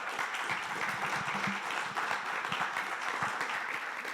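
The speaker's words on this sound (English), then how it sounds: "Let's give them another round of applause." A live audience at a Leadership Bismarck-Mandan gathering applauds steadily for several seconds, a dense wash of many hands clapping that holds at an even level throughout.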